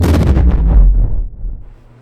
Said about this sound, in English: It let out a controlled explosion as Izuku looks at it